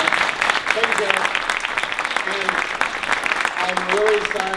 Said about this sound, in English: So first round of applause.